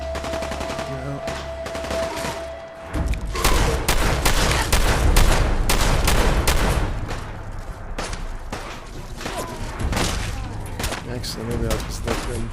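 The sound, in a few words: gunfire in a video game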